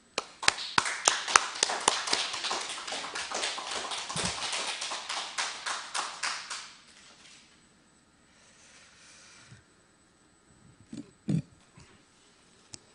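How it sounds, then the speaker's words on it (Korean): An audience at an invited lecture gives a lecturer a welcoming round of applause, a brisk burst of many hands clapping that fades out after about six seconds, followed by quiet room noise and a few faint knocks. "박수로 맞이하겠습니다"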